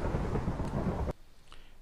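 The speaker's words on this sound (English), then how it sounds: "Oh, it's also a lightning storm here." Thunderstorm in the Minecraft video game: a loud rumble of thunder with rain noise that cuts off abruptly, leaving a faint quiet tail with soft patter.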